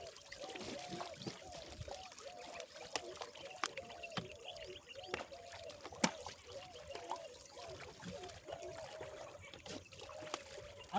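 Water trickling and splashing against a motorbike during an outdoor wash without shampoo, steady faint dribbling with scattered louder splashes.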